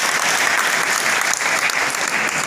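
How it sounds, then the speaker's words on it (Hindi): Loud, dense applause from a crowd at a public event honouring the Chief Minister, a continuous roar of clapping close up with no pauses. "आदरणीय मुख्यमंत्री जी के लिए जोरदार तालियां"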